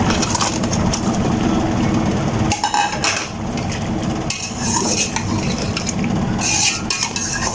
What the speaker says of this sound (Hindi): तो गाइस अब हम अपना चिकन 2 से 3 मिनट तक इसमें फ्राई करेंगे